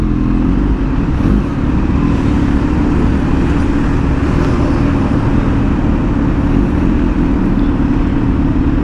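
Dense road traffic heard as a steady, loud rumble of engines and tires that continues without a break and carries no speech.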